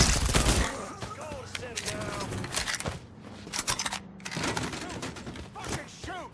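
Gunfire rattles through a Mafia III shootout in repeated bursts and scattered shots, mixed with shouting voices and busy background noise.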